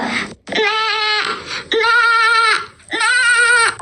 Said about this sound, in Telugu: గోట్ అంటే మేక